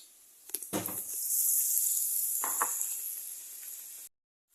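Bread pakora pieces are slipped into hot oil, giving a steady bright sizzle that swells and holds for about three and a half seconds, with a couple of soft clunks near the start, then cuts off.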